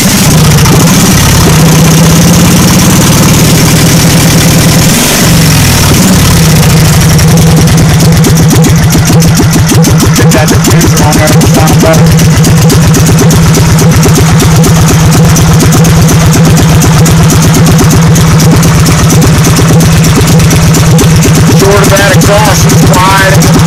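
V-twin engine conversion in a vehicle cranking and catching, then settling into a loud, steady, rapidly pulsing idle close by, with some brief talk early on.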